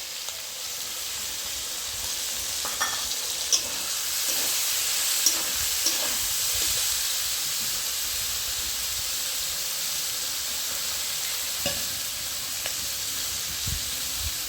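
Fried snails with ground spice paste sizzle steadily in a hot pan for a Bengali potato and eggplant chorchori with spring onion, a constant hiss with occasional soft pops and stirring clinks, close and alone without talk.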